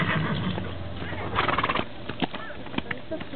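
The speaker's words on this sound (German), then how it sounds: "Zweite ist auch gut, also die jetzt galoppiert." A horse in a riding arena whinnies and then moves with rhythmic hoofbeats, a neigh followed by a run of clip-clop steps on the ground, close and clear.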